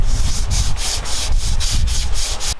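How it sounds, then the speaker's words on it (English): Wooden edges are being sanded by hand with a rapid back-and-forth scrubbing rhythm, about four strokes per second. The rasping is loud and close, with no talk over it. "We are sanding, dude."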